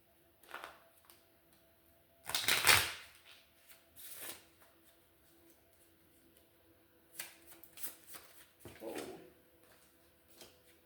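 Tarot cards being shuffled by hand: one loud riffling burst, then several softer, shorter shuffles and taps with quiet gaps between.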